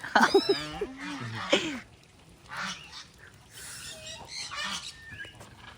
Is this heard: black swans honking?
yes